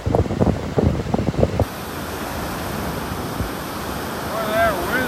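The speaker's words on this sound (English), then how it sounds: "Boy, that wind's out of the north, isn't it?" A north wind buffets the microphone on a beach walk in North Naples, Florida, with gusty rumbling bursts at first, then a steady rushing roar of wind and surf.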